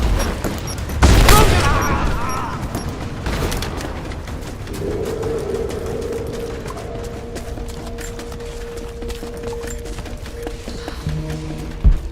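Grenade blast and gunfire in the video game Rise of the Tomb Raider: a sharp explosion early on, then scattered shots and mechanical clatter, followed by a sustained whine under faint battle noise.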